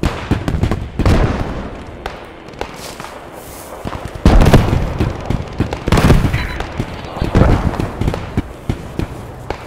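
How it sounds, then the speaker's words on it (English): A bombing run hits near a flak cannon in the World War II video game Post Scriptum, loud heavy explosions and booming blasts mixed with bursts of gunfire, close and chaotic, several big impacts over about ten seconds. "So we're getting a bombing run on the flak cannon."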